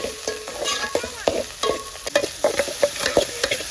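Ginger, garlic and oil frying in a pan while being stirred, with a constant close sizzle broken by a quick series of rhythmic scraping and tapping strokes from the spoon.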